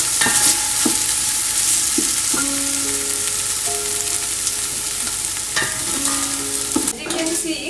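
Bacon frying in a pot for corn chowder, a loud, close, steady sizzle with repeated scraping and knocking from stirring, plus a few brief tonal clangs.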